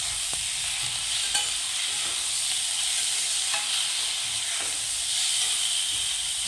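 Cumin, coriander and turmeric powder sautéing for a fish curry, a steady soft sizzle and hiss with occasional light stirring scrapes, close and without talk.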